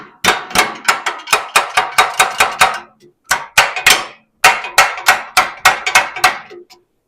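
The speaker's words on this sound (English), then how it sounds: "I got to get a bigger hammer, and we'll get her knocked into position here" A hammer taps a part into position during a workshop build, delivering a loud, rhythmic series of sharp metallic knocks in three runs with brief pauses between them.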